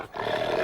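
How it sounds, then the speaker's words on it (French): A dog growls close and fairly loud inside a run-down motel. It is a short, continuous, rumbling snarl of under a second with no voices over it. "Oh, c'est le chien."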